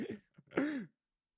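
A person on a podcast gives a short cough, then a rough, voiced throat clearing. Both sounds are close and distinct, and silence follows them.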